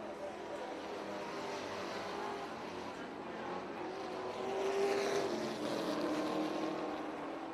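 Street stock race cars running hot laps at Bridgeport Motorsports Park in New Jersey, engines droning steadily at a distance and swelling briefly as one passes, with an announcer talking over the engines.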